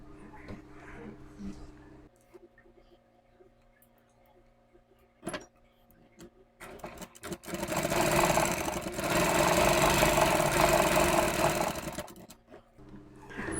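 A sewing machine stitches a net blouse in short bursts, then runs in a louder sustained whir, with quiet rustling and handling noises between runs.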